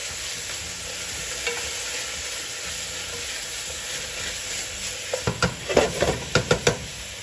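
Rehydrated mushrooms stir-fry in a pan with a steady close sizzle, joined near the end by a burst of quick scraping stirs and utensil knocks.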